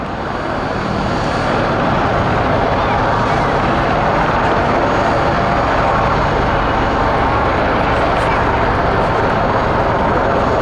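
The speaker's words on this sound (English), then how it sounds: "It is a small, agile helicopter with a top speed of 170" A small, agile Army Air Corps Wildcat helicopter flies a display at the Duxford summer airshow, its loud, steady rotor and engine roar filling the air continuously alongside crowd noise and a commentator's voice.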